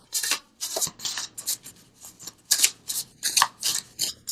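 A deck of oracle cards is handled and shuffled, producing repeated bursts of papery riffling and rubbing in an uneven rhythm, close and fairly loud with quiet gaps between.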